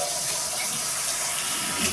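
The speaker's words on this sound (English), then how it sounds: "All right, we got water going to the top." Water rushes under high pressure from a pipe during a house renovation, a loud, steady, hissing flow that runs unbroken throughout with no voices.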